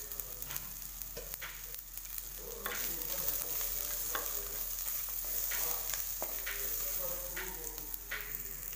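Chopped onions with a pinch of asafoetida sautéing in a pan, with a steady close sizzle and a run of spoon scrapes and clinks as they are stirred throughout.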